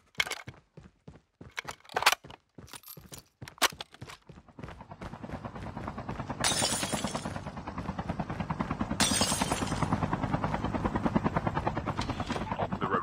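In the Call of Duty Mobile video game, an airdrop aircraft arrives as a helicopter-like rotor chop. It swells up and holds loud and steady after a series of sharp, scattered bangs at the start.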